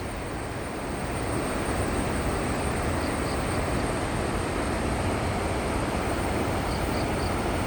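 The swollen river at Perumthenaruvi waterfall rushes with great force, making a loud, constant, broadband roar that stays unbroken throughout, with faint high tones above it.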